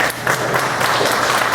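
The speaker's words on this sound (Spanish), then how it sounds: "Porque pido un fuerte aplauso al licenciado Igor Antonio Pérez Pablo" An audience at a student talk gives the speakers dense, close applause that holds steady for the whole clip.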